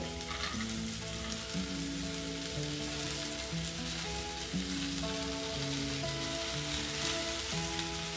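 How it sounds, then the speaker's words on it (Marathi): Okra and carrots frying in a hot pan, a steady loud close sizzle with a constant crackling hiss and a faint melodic tone running underneath throughout. "ही भेंडी सर्व टाकून घेते।"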